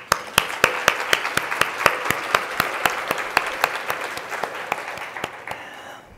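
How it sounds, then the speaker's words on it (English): A women's technology summit audience claps for Carolyn in a steady, fairly loud round of applause, with evenly spaced sharp claps standing out over the mass of hands. "So I just want to give a round of applause to Carolyn."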